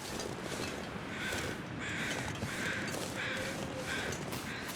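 Crows cawing in The Long Dark survival game, a series of five or so harsh calls at a regular pace, moderately distant, over a constant windy outdoor ambience.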